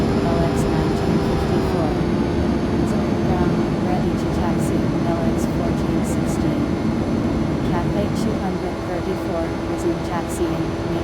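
Boeing 737-800 airliner taxiing, heard from inside as a steady engine hum with a sustained tone and cabin rumble, continuous and even throughout.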